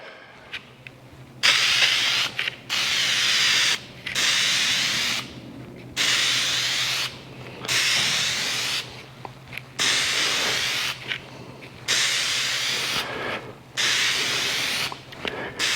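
Oil sprayed onto a UNI air filter for a Kawasaki KRX: repeated bursts of hissing spray, each lasting a second or two and separated by short pauses, close and steady, with no talking.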